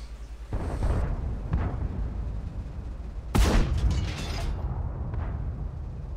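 A tank cannon fires in a video game with one sharp, loud blast and a rumbling tail, set against a steady engine drone and softer mechanical thuds.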